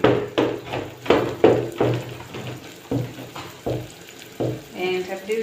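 Garlic sizzles in a frying pan while a utensil stirs and taps, with rhythmic scraping bursts over the steady crackle.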